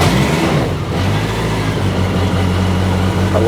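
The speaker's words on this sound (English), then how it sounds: "Start the engine now." A BMW K75 motorcycle engine idles steadily after starting, a loud, continuous low-pitched rumble with a constant hum and no pauses, heard close up with no talking.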